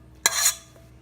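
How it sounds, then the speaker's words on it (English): Metal bowl clattering once, a sharp bright clank that rings on briefly and fades, close and alone during apple crisp pizza preparation. "Sorry about the metal bowl."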